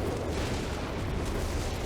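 A heavy artillery barrage rumbles in a strategy video game, a dense, continuous roll of distant blasts and booms merging into a steady low roar.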